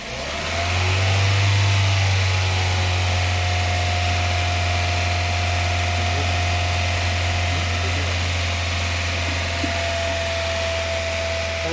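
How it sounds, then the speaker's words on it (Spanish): A car engine is held at about 2000 rpm during a charging system test with the battery charging, a steady, close mid-pitched drone with a brief louder surge at the start, no one speaking. "Aceleremoslo a 2000 revoluciones."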